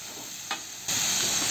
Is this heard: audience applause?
no